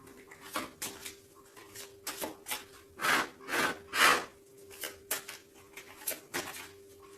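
Tarot cards being shuffled by hand, a steady series of soft riffling and sliding bursts, a few louder swishes in the middle, close and without talk.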